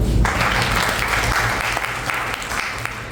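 An audience at a business motivational seminar breaks into loud, sustained applause, many hands clapping together close by and continuing steadily until the end, with no talking over it.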